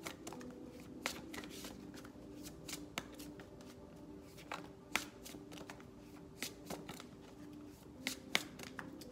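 Oracle cards being shuffled by hand, a quiet series of soft papery riffles and taps in irregular bursts, close to the microphone.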